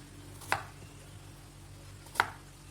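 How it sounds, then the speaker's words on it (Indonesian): Eggplant being chopped into pieces on a board: two sharp, separate knife strikes about one and a half seconds apart over a quiet kitchen background. "Lanjut, kita akan memotong-motong terongnya."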